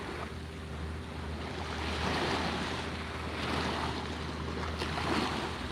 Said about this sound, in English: Listen to waves and shell